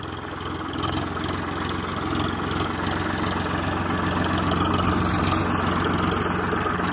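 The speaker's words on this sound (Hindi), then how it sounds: "तो एक बार आ जाने दो ट्रैक्टर को पास" A tractor engine idles steadily nearby, a low continuous rumble with a constant hum and no talking throughout.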